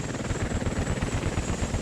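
A helicopter in the video game Squad, its rotor beating in a fast, steady pulsing whump under a continuous engine drone, close and loud with no voices.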